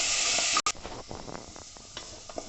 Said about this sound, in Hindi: इसको मैं इसमें तेल में डाल दूंगी और इसको हम मीडियम फ्लेम पर इसको सौते करेंगे